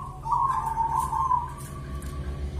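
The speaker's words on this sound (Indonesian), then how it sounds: "burung perkutut lokal alam ini suaranya noklak" Local wild zebra dove (perkutut) giving a soft, fairly faint cooing call, a single sustained tonal phrase over low background hum.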